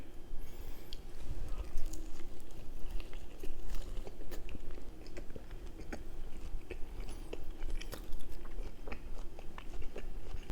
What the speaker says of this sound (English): Taking a bite of the steak with good old Frank right here